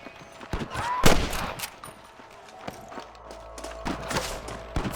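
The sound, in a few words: gunshots in a video game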